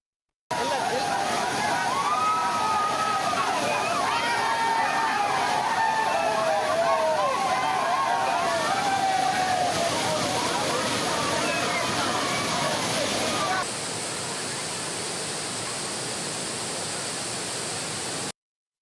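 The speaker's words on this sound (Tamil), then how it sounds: "அனைத்து அருவிகளில் தண்ணீர் சீராக கொட்டுவதால் சுற்றுலா பயணிகள் மகிழ்ச்சியுடன் குளித்து செல்கின்றனர்" Water pours at Thirparappu falls with a steady, broad roar where tourists bathe, with voices and shouts over the rush; the sound drops to a more even hiss toward the end.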